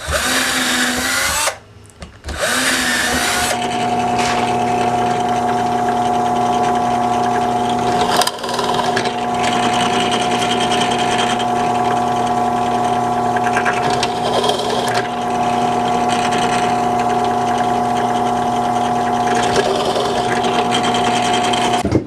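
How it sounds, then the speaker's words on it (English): A drill press drone runs loud and steady with a high whine, broken briefly near the start, as a 5/8 inch Forstner bit bores holes through wood. "this is going to go onto the drill press and get the bigger holes cut into it"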